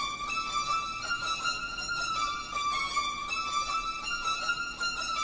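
Melodic starter loop with a sustained, wavering high tone and bright upper overtones drifts slowly in pitch over a faint, noisy low bed, moderately quiet and steady throughout.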